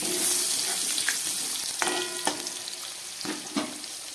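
Potatoes and strips of pointed gourd fry in hot oil with a steady, close sizzle, broken by a few sharp clinks and scrapes of a spatula against the pan.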